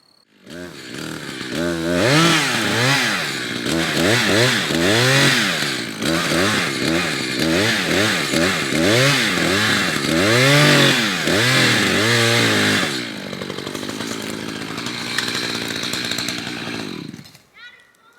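A chainsaw felling a tree roars loudly in rising and falling revving bursts for about twelve seconds, then drops to a steadier idle before cutting off, with voices faintly underneath.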